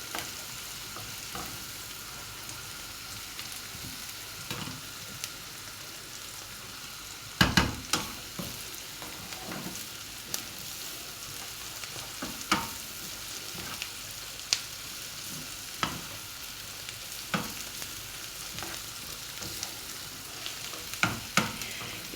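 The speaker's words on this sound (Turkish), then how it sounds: "Bunu da güzelce kokusu çıkana kadar kavuralım. Bundan sonra fasulyesini koyalım." Beans stir-frying in a pan after a spoonful of tomato paste has been toasted, with a steady soft sizzle broken by frequent sharp scrapes and clacks of a utensil stirring, close and alone without talk.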